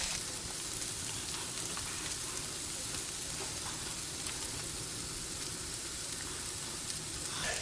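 Eggs sizzle steadily on a Weber Slate flat top griddle beside potatoes and chorizo, a dense, even crackling hiss that holds at constant loudness throughout, close up and without talk.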